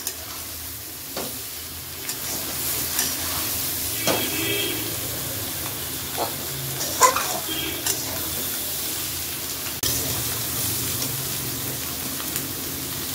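Shrimp (prawns) frying and being stirred in a pan for a coconut prawn dish, a steady sizzle with scraping stir sounds and occasional clatter, voices talking faintly in the background.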